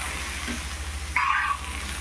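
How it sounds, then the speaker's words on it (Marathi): Okra (bhendi) fries and is turned in a pan, a soft, steady sizzle with one brief scrape of stirring in the middle and no talk. "हे भाजून घ्यायचे आपल्याला खालीवर करून"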